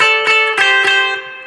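Acoustic guitar strummed with a double downstroke, a few quick strums ringing out in a short rhythmic pattern before the chord decays, close and clear with no talking.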